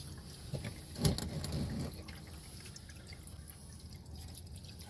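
Water, not oil, drips and trickles out of the engine of a 1979 Trans Am during an oil change, a faint, steady patter with one louder splash early on.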